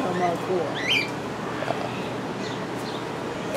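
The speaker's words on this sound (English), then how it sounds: "We got a bunch of cockatiels." Cockatiels in a zoo bird enclosure give a few short sharp squawks and chirps, one louder call near the start and fainter ones later, over a busy crowd murmur with people talking nearby.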